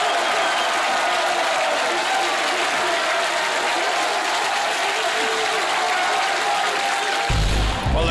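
Crowd at a robot fighting competition cheering and applauding in a steady, dense roar that fills the whole stretch, loud and continuous with no break.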